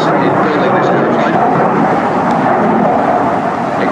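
A delta wing fighter jet roars overhead at an air show, a loud, sustained broadband rumble with no break through the whole stretch.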